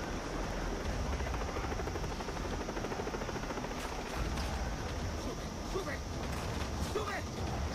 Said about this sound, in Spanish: nos ataca un helicóptero y todo